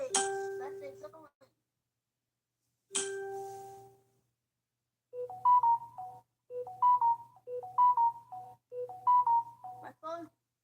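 A phone sounds two ringing chimes with a pause between them, then a string of short, repeating melodic notification tones. The tones are clear and close, with no talking over them.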